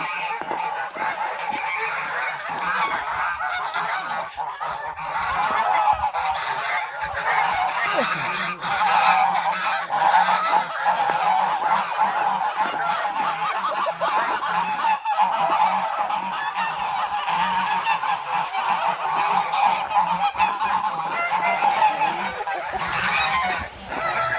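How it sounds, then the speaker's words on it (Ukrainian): A flock of geese honks continuously and loudly, many overlapping calls close by. "Тут гуси, качки."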